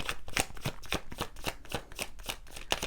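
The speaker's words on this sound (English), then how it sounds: "pull a few more cards for you" Tarot cards being shuffled by hand in a steady run of crisp, papery riffles and flicks, close and fairly quiet, with no talking.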